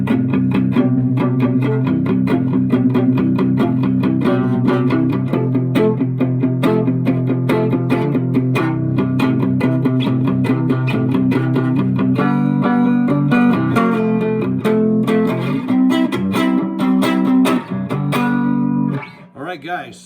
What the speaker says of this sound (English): The only thing that you're hearing is the springs.